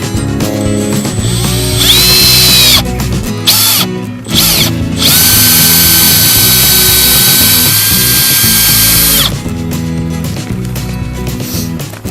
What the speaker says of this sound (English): Where I want to drill.